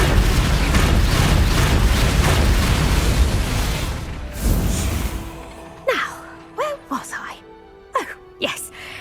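Spell effects in Hogwarts Legacy, Flipendo and Confringo among them: a long rumbling blast of bursting explosions, then a string of short sharp magical zaps and pops spaced out against a steady background hum.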